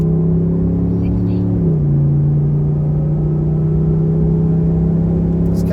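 A truck engine pulling under partial throttle, a loud steady low drone with a slight pitch shift partway through, rolling on smoothly rather than surging.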